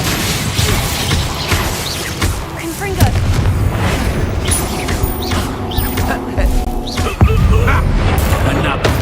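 Explosive Confringo spell blasts in the video game Hogwarts Legacy, loud booming impacts that repeat amid ongoing combat noise, with a voice speaking over them.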